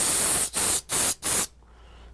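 A finish is sprayed from a can onto a large freehand-carved wooden cabin sign standing upright, in four close hissing bursts separated by brief pauses, then quiet.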